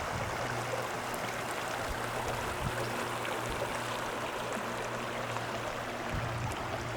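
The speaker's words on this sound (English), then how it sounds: "Well, the used trail just crossed Rock Creek." Rock Creek flowing along a trail below Mount Whitney, a steady broadband rush of moving water, even and continuous at moderate loudness with no voices.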